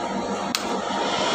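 A single sharp click as an electrical contactor switches on in the control circuit of a vacuum machine drawing 24 amps. The click sits briefly over a steady machine hum.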